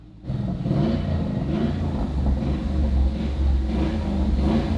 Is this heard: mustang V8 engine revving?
yes